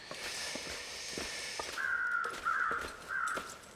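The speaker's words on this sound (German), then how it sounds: "Wo sind die Krähen?" Crows caw in the snowy wilds of the video game The Long Dark, a series of raspy calls at moderate distance over soft crunching footsteps, with no talking.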